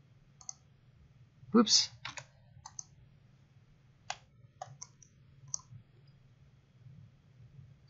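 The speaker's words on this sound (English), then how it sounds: "I'm going to double click to go inside." A computer mouse clicks at a desk in a quiet room, with a pair of close double clicks followed by scattered single clicks over a faint low hum, and a person briefly speaks.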